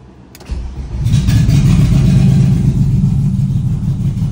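A BMW M50 engine swapped into an E36 sedan on a lift cranks and catches, then settles into a loud, steady, rumbling idle close by, with no talking.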